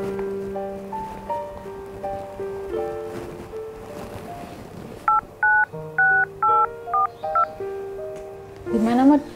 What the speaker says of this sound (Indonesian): Coba nih Mod telepon lagi.